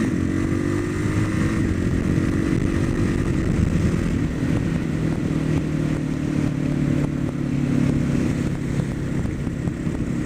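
A vehicle engine holds a steady drone at cruising speed, a constant loud hum with road and wind noise layered over it, with no change in revs from start to end.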